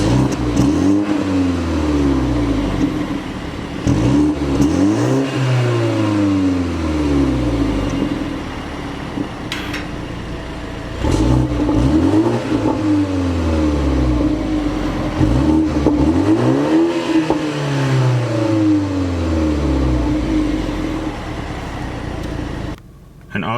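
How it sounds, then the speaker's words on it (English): 2019 BMW 330i in sport mode revving repeatedly, its engine swelling and falling in several rising-and-falling sweeps with crackling exhaust pops, loud and close with road noise underneath. "if you guys want to hear the pop, I'll let you guys hear the pop"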